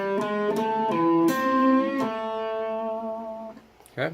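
Electric guitar playing the first phrase of an intro, a run of sustained notes with a slight bend near the end, close and distinct, fading before a brief closing noise.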